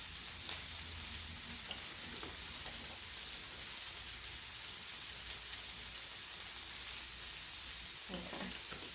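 Broccoli stir-frying in olive oil with onions and garlic gives a faint, steady crackling sizzle throughout, with a couple of soft stirring scrapes near the end.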